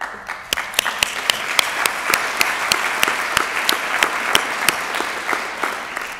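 Audience applause for a faculty committee at a Founders Day ceremony, a steady wash of many hands clapping with a few sharp, distinct claps standing out, continuous and fairly loud throughout with no talking.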